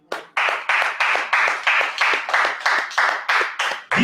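A church congregation claps together in a steady, rhythmic beat, about nine or ten loud, even claps in quick succession, close and without voices.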